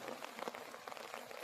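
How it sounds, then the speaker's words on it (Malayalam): Heavy rain falls in a continuous, fairly faint patter and wash of drops, fluctuating slightly, with nobody talking. "മഴയും വന്നു ഗൈസ്, നല്ല മഴയാണ്."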